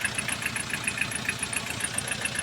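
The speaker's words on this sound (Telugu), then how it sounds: "ఇప్పుడు ఫ్యాన్ ఆన్ అయింది" Motorcycle engine idles with its radiator cooling fan running, a steady close hum and whir with fine rhythmic ticking pulses throughout, no voices.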